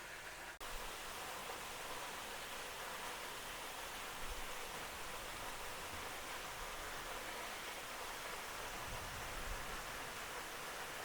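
Waterfall at Yinhe Cave on a Taipei mountain trail near a cave temple, a steady, unbroken roar of falling water heard close and loud throughout, with no voices.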